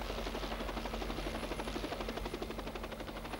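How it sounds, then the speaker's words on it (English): Army helicopter flying close by, a loud, steady rotor thump with a continuous engine whine filling the whole stretch without pause. "With helicopters, the army can bring relief to the people."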